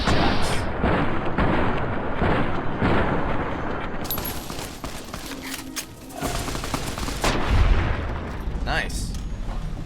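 Loud, dense gunfire in Fallout New Vegas, with rapid repeated shots and booms that run almost without a break.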